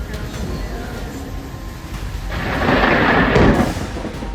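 Thunder from a lightning storm in Houston rolls in over steady rain, building to a loud, deep rumbling crack before easing back to a softer roll.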